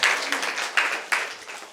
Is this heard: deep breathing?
no